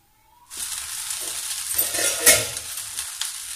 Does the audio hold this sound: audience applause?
no